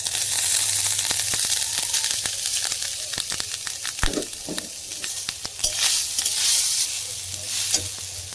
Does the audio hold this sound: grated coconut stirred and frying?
yes